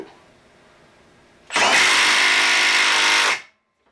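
A Milwaukee M12 3/8-inch stubby impact wrench in its mode 3 setting, tightening a bolt: after quiet, a loud, close, sustained rattling burst of about two seconds, then it stops abruptly.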